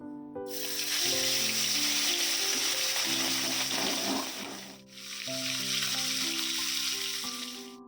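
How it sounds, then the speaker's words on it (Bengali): Fish frying in a pan gives a continuous hiss and sizzle over background music, loud and steady apart from a brief dip midway. "এখন মাছটা ভাজবো"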